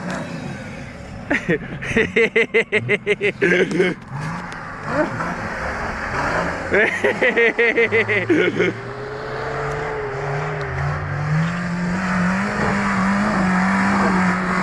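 Car engine revving hard and rising in pitch while the car is driven on a road, with repeated bursts of acceleration and people shouting encouragement over it.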